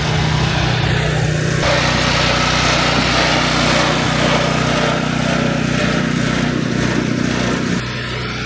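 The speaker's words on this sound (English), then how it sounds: "So this is a mixer." The small engine of a mortar mixer on a home construction site runs as a loud, steady buzzing drone throughout, with a slight shift in tone near the end.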